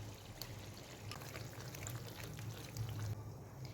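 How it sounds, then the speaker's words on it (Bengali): Whisked yogurt, a quarter cup, poured into a pan of masala being cooked with salt, a soft continuous liquid pour and sizzle over a low steady hum. "ফেটিয়ে নেওয়া দই এখানে নিয়ে নিচ্ছি 1/4 কাপ।"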